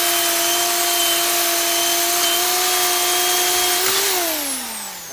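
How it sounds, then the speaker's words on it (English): A power drill fitted with a hole saw cuts into 2-inch PVC pipe, giving a steady, fairly loud motor whine that holds for about four seconds and then winds down in pitch as the bit stops. "we're going to drill holes in a 2-inch PVC pipe"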